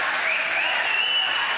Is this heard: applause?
yes